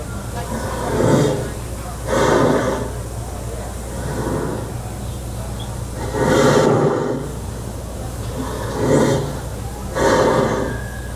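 A steady low rumble of the Liberty Belle riverboat at Magic Kingdom carries on underneath, while people talk in bursts over it.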